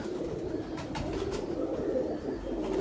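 Pigeons of a Taar wali breed, a cross of Kane wale and Teddy pigeons, coo in a low continuous murmur close by, with steady soft cooing overlapping throughout and no talking.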